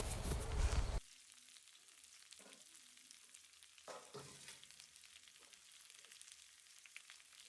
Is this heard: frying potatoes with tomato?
yes